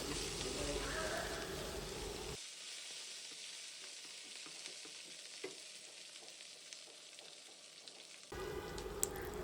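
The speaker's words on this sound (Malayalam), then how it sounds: "പിന്നെ നമ്മൾ മല്ലിച്ചപ്പും കറിവേപ്പിലയും ഇടും വീണ്ടും സോട്ട് ചെയ്യുക" Coriander leaves and curry leaves sauté in a pan, giving a steady close sizzle that drops away in the middle while faint stirring taps continue, then the frying hiss returns loudly at the end; no talking.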